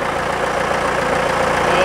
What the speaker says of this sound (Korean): 해당 차량 엔진 구동 소리도 제가 담아드려 보겠습니다.